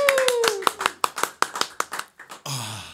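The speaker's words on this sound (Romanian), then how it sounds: "Aplauze pentru Andrei" Scattered clapping from a few people on a podcast, a series of sharp distinct claps in an irregular rhythm, followed by a brief burst of laughter-like voice at the end.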